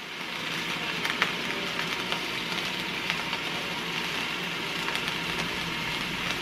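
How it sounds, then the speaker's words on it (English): Beef chuck searing in a hot pan for stew gives a steady, continuous sizzle and crackle with small scattered pops, fairly close and unbroken, with no talking over it. "Listen at it. It's starting to sear already."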